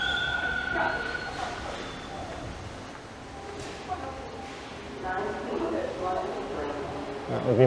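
A train rumbles in with rising rail noise and metallic squeals echoing in an enclosed station, with people talking nearby.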